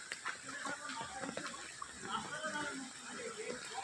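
Floodwater runs across a village road beside a submerged garden and a flooded pond, making a steady rushing, splashing wash that continues throughout at moderate loudness.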